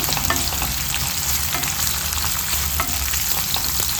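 Two finely chopped onions frying in a pan with mustard seeds, a steady dense sizzle with occasional stirring, loud and continuous with no talk.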